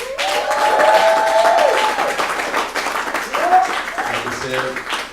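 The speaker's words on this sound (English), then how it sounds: "Give them a hand clap." A crowd applauds a band with a sustained wash of clapping that swells and then eases off. Voices call out over the clapping near the start and again toward the end.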